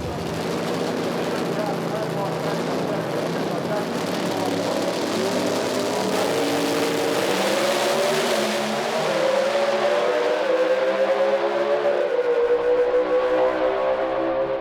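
Drag racing cars roar down the racetrack, a loud continuous engine howl whose pitch slides and rises toward the end, with a commentator's voice faintly mixed underneath.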